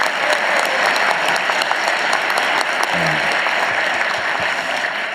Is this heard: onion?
no